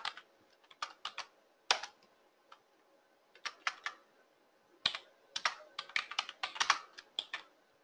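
Typing on a computer keyboard, irregular bursts of crisp close key clicks with short pauses between, quiet and without speech.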